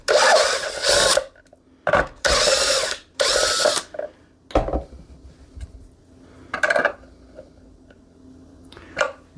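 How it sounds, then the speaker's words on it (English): A power drill with a step bit boring a 9/16 hole, running in several short, loud bursts with brief pauses between them and a few softer final taps. "These step bits make easy work of this."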